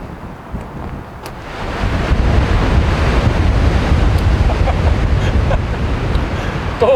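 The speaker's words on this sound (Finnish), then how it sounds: "Tuuli meinaa viedä mennessään" Strong wind gusting on a lakeshore, roaring buffeting against the microphone with a surf-like rush that swells after a quieter opening and stays loud, with no one speaking.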